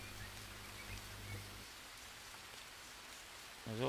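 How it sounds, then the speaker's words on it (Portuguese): Rain falls outdoors and drips steadily near a water-collection setup, a faint, even patter with a low hum early on and a brief louder sound at the end. "isso é pingar porque está a chover"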